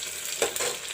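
Sliced onions drop into hot mustard oil with bay leaves in a pan, a brief close sizzle with a soft scrape partway through.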